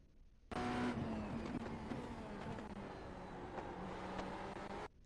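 A race car engine in iRacing, held under throttle with a sustained, steady high-revving drone from start to finish and no talking.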